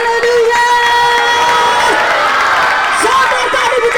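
A church congregation cheers loudly, crowd voices shouting hallelujah in a dense, continuous roar with clapping mixed in, close and full throughout.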